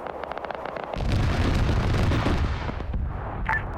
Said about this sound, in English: they're trying to use grenades to neutralize some of these IEDs